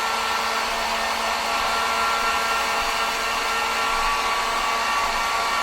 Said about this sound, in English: I'm gonna use my heat gun. On low, not too close